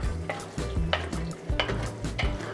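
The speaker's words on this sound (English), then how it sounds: "Stir that all up." Spoon stirring a pot of cheesy one-pot lasagna soup: repeated close scraping strokes in a loose rhythm, with a soft simmering sizzle underneath.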